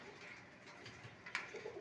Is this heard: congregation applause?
no